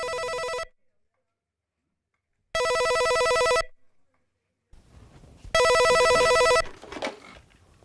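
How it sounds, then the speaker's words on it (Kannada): A telephone rings in three loud, bright bursts separated by short silences, with some room noise and faint talk between the last rings in a home setting. "ಫೋನ್ ಬಂತು"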